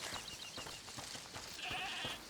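In A Plague Tale: Requiem, a goat bleats a few times at moderate distance, wavering cries over a faint ambient background.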